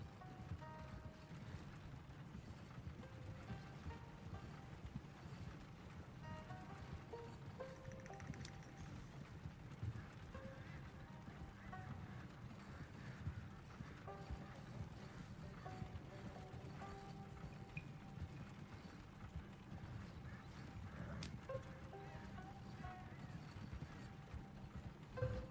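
Faint, steady clip-clop of a horse's hooves in a continuous rhythm, with occasional light mechanical clatter, in the video game Red Dead Redemption 2.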